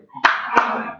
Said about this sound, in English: Clap for them, let them sit down.